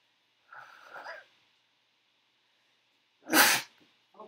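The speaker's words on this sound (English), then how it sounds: "I even did my vampire sneeze" A single loud, sharp sneeze bursts out near the mic, preceded by a short breathy vocal sound, with quiet pauses between during a LEGO building livestream.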